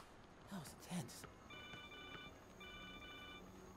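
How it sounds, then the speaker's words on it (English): A telephone rings in the Spider-Man video game, a thin electronic trill repeating in two bursts, faint behind game noise, with a couple of brief thumps and a voice early on. "Oh boy, another phone call."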